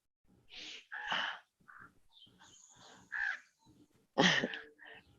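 Crows caw in a park, a few harsh, hoarse calls in short separate bursts, fairly close and alone with no talk over them.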